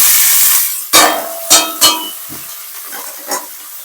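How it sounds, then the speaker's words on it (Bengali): Vegetables hitting hot oil after a cumin tempering, a steady sizzle fading out, followed by a few sharp scrapes and clatters of stirring in the pan. "তারপরে আমি দিয়ে দিচ্ছি এই ভেজিটেবিল গুলো।"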